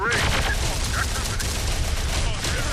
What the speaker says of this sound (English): So we're laying down some heavy fire.